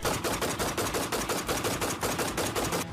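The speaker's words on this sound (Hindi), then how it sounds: "गोलियां तड़ातड़ बरस रही हैं।" Rapid automatic gunfire in a war setting, a dense unbroken burst of sharp shots repeating at a fast steady rhythm for the whole stretch, loud and close with no voices.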